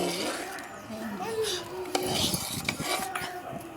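A spoon scrapes and clinks against a pan while melted jaggery and coconut are stirred in a village kitchen, soft rubbing strokes running under steady talk.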